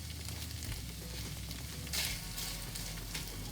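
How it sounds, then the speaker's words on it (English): Jamaican beef patty filling frying in a pan over a lowered flame, a steady close crackling sizzle with a few louder pops, no voices. "If you find it's frying too fast and getting dry too fast."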